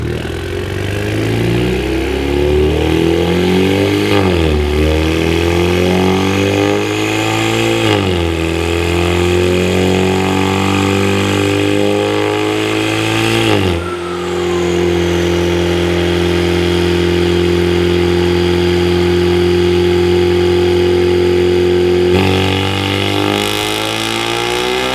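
A turbocharged Ecoboost Mustang with a Comp 5858 drop-in turbo revs hard on a dyno. The loud, continuous engine note climbs in pitch through repeated pulls, dropping briefly between sweeps.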